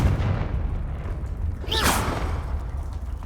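A Confringo blasting spell in Hogwarts Legacy goes off as a short whooshing burst with a rising swish, heard over steady rumbling game ambience.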